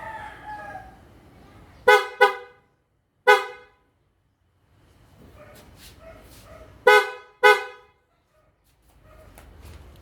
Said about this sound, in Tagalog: Yan na yung PIA horn.